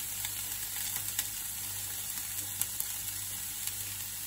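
Green beans and other vegetables frying in a pan, a quiet steady sizzle with faint crackles and occasional small pops, alone with no talking.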